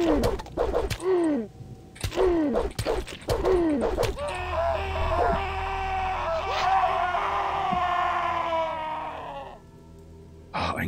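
A zombie in the video game ODYSSEE screams in a long, wavering cry that rises and falls, following a run of sharp thwacking hits and short shrieks, with no talking.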